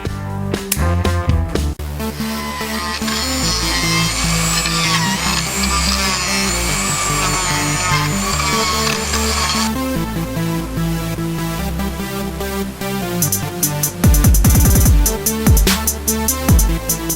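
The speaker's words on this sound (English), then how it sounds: "So I use the power tool to get a little bit of depth to the deadwood" A power tool whines and grinds steadily at close range, its pitch wavering as it bites into the deadwood of a Japanese yew bonsai, with brief pauses and rougher bursts of cutting.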